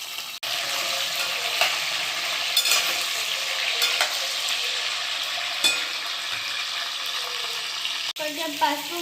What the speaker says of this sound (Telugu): ఇప్పుడు వంకాయలు కూడా వేసుకోవాలి ఫ్రెండ్స్